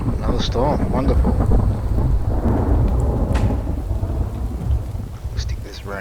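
Thunderstorm in The Infected game: a continuous, loud wash of rain with a deep rolling rumble of thunder swelling through the middle, dense and close throughout.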